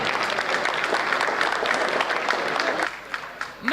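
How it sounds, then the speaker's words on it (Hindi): Audience at a Hindi comedy poetry gathering clapping loudly and steadily, a dense crowd applause close up that fades out near the end. "जोरदार तालियों के साथ"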